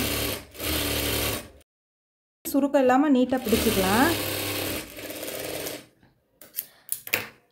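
A sewing machine runs in short bursts while stitching a lined chudithar top, its rapid mechanical whir starting and stopping, with someone speaking over and between the runs.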